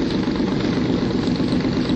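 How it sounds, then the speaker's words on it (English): Overhead valve engines drone in a 1937 race of boats hurtling through the water, a continuous low, rumbling engine roar that holds steady and fairly loud, with no talk. "The machine gun roar of the overhead valve engines, hurtling through water and air like lubricated lightning."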